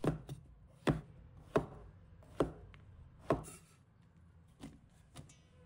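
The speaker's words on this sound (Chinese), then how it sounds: "再准备杏鲍菇，把它切成滚刀块" A knife chops king oyster mushrooms into roll-cut pieces on a board, about eight crisp, separate thuds at an unhurried, uneven pace, close and clear with quiet gaps between them.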